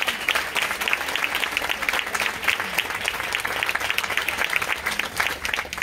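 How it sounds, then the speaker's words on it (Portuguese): Steady applause from an audience at a film premiere and debate, a dense even wash of clapping sustained for several seconds. "uma salva de palmas para ela, para a amiga da Marcela."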